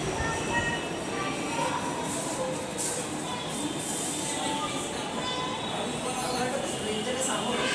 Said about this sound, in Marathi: आम्ही नागपूरला पोचल्यानंतर मेट्रोने आलो घरी